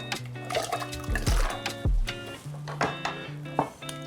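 Water runs and splashes into a pot being filled to boil Yukon Gold potatoes in a home kitchen, with a steady pour, a few gurgling bursts and clinks close by, and no talk.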